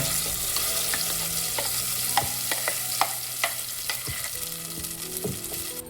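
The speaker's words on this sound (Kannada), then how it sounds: "ಸಾಸಿವೆ ಸ್ವಲ್ಪ ಚಟಪಟ ಅಂದರೆ ಸೊಪ್ಪು ಒಂದು ಸ್ವಲ್ಪ ಜಜ್ಜಿರೋ ಬೆಳ್ಳುಳ್ಳಿನ ಹಾಕ್ಕೊಂಡಿದ್ದೀನಿ" Mustard seeds, crushed garlic and ground masala fry in hot oil for tempering, giving a steady close sizzle with scattered pops and crackles throughout. No one speaks.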